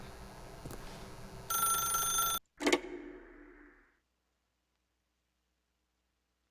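Telephone ringing in The Stanley Parable: after low ambient hum, an electronic ring sounds for about a second, then a sharp click or pickup with a short fading tail, followed by silence.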